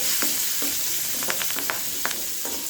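Onion sautéing in a pan with cumin, asafoetida and curry leaves, a steady close sizzle broken by several short scraping clicks of a spatula stirring, with no talking.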